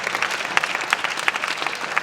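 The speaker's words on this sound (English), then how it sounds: "We can clap" An audience at a Black history celebration in Queens claps together in a thick, lively burst, loud and close, with a few sharper individual claps standing out and no speech.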